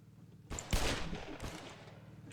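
Gunfire in a Roblox open-world building and PvP game arrives as a dense burst of rapid shots, loud and close, ringing on for about two seconds with no speech over it.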